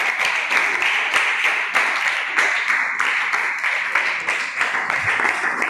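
Steady applause from a group of children at a school for the blind, a dense patter of clapping lasting several seconds at even loudness with no voices over it.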